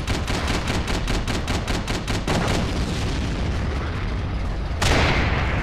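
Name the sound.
anti-tank mine detonating under a tank in the video game Forgotten Hope 2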